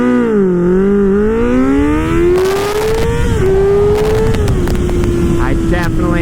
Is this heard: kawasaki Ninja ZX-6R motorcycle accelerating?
yes